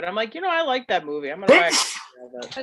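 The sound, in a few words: sneeze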